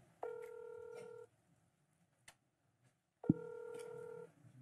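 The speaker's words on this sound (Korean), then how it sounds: "신호는 갑니다만 받질 않습니다." A telephone ringback tone sounds on a call that goes unanswered. Two loud, steady electronic tone bursts about a second long are separated by a silent gap, with faint background noise between them.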